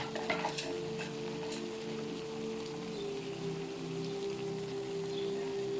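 Black peppercorns crackle and sizzle as they fry in hot oil in a home kitchen pan while cooking a vegetable curry, a steady close sizzle with a low hum beneath and no talking.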